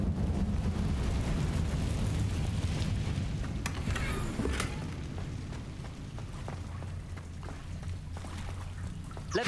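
A fire spell cast in the Hogwarts Legacy video game flares as a loud, dense roaring burst with crackling pops, trailing into a steady low rumble over continuous game ambience.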